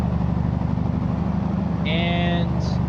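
A truck engine idles with a steady, low, droning rumble that runs unbroken throughout, with some faint higher tones briefly rising over it.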